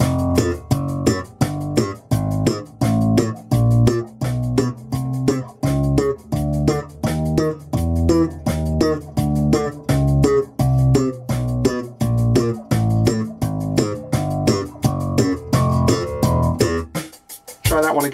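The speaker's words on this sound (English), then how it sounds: "Here is a beat, 85 BPM." A steady drum beat at 85 BPM, for a bass lesson on thumb-pop octaves, plays loud and close with evenly spaced hits over a sustained tonal backing, no talking, stopping abruptly near the end.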